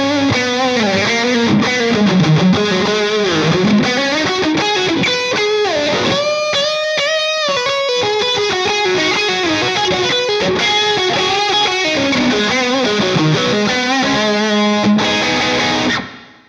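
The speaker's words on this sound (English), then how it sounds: "you'd rather do reverb, we can do that too" Distorted electric guitar through a Seymour Duncan Powerstage 170 amplifier, playing a continuous melodic line washed in reverb, sustained notes ringing out loudly before cutting off at the end.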